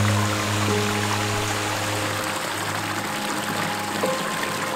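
Creek flowing over rocks along a forest hiking trail in a Georgia state park, a steady close rushing and trickling wash with no talking.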